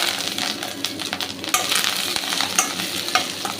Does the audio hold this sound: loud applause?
no